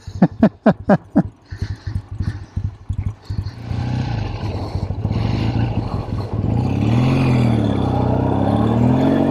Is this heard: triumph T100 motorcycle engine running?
yes